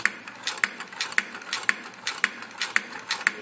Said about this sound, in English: the procedure is to turn it 2 revolutions per second, approximately steady, and the counter is gonna take care of the numbers.